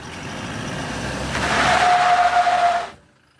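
A Toyota Fortuner Legender 4x4 with traction control switched off revs hard while held on the brakes, its engine loud and close as it builds into a sustained roar for about three seconds, then cuts off abruptly.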